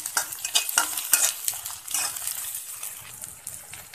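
Chopped chilies sizzle and hiss in a pan while being stirred for an okra fry, with steady scraping and clinking of a utensil against the metal, close and continuous.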